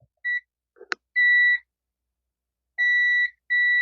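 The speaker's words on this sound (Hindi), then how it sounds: "इसको मैं बजर मोड में रख लेता हूँ" A multimeter set to buzzer mode during a continuity test on a DTH set-top box power supply board gives several short, clear beeps of varying length, alone with no talk.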